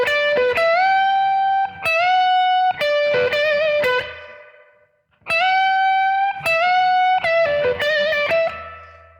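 Slow blues lick in D on electric guitar: clean sustained single notes and bends in two matching phrases split by a short pause, played alone without talk.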